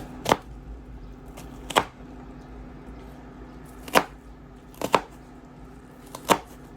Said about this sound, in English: I'm chopping these onions, finely chopping it so that it could look nice in the pot